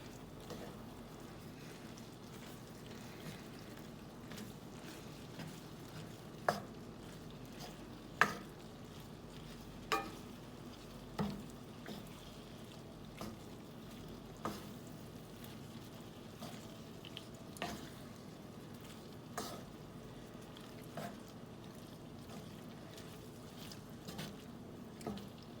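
Pasta noodles being stirred through a creamy tomato and spinach sauce in a pan, a steady low sizzle under a series of light spoon scrapes and taps spaced every second or so, close and fairly quiet.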